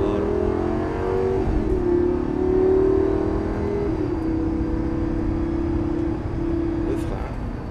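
A Lamborghini Gallardo engine hums and revs close by, its pitch holding steady and then dipping slightly as it accelerates.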